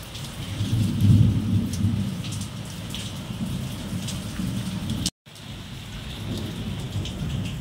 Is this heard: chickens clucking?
no